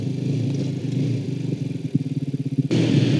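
A 2006 Honda CBR 125 (JC34) motorcycle engine drones steadily up close, its pulsing throb becoming more pronounced before a surge of road and wind noise.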